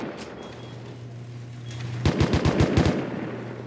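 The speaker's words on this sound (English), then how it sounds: "the AK is so loud" AK rifle fire in the survival game Rust: a burst of about eight sharp, loud shots in fast rhythm, heard close and alone after a quiet stretch with a steady low tone.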